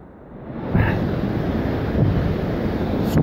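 River water rushes through the Bicaz Gorge in Romania, a steady broadband roar that swells up loud after a quieter opening and holds close and constant, with some wind buffeting.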